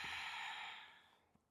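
A single deep exhale during a core breathing exercise, a breathy airy rush that starts strong and fades out over about a second, heard alone.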